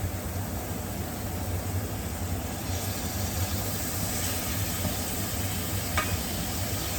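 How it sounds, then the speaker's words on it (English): Shrimp dropped into a skillet sizzle at a low steady level under a broad hiss, a faint clink or two of stirring near the end, no voices. "now we're just going to stir it. And put my shrimp in."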